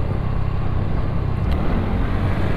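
A motorcycle engine runs steadily while the bike is ridden, a loud low drone mixed with wind rush. A brief click is heard partway through.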